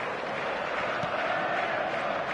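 Football stadium crowd noise in a video game match, a broad steady roar of a large crowd with faint cheering, loud and continuous, as a commentator talks over it.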